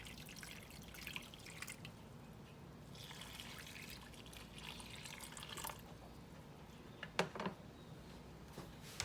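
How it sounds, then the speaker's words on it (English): Water poured from a container into a bowl holding red Jello powder while making a cheesecake Jello dessert, a steady soft trickle and splash running through the whole stretch, close and moderately quiet, with a few sharper drips near the end. "We're going to add our water."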